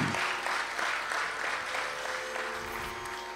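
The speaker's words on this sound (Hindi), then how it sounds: "बस केवल तालियां बजाएं." An audience at a Hindustani classical concert of Raag Bhairav applauds steadily, in a dense wash of clapping for several seconds under a faint sustained tone.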